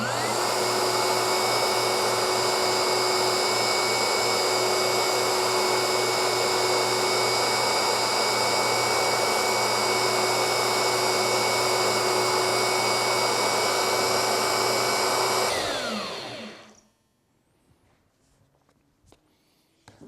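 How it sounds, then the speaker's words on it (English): A belt sander with a newly replaced belt runs loud and steady with a constant whirring hum for about fifteen seconds, then winds down to silence, followed by faint handling clicks. "We're just going to turn the sander on using our tracking adjustment."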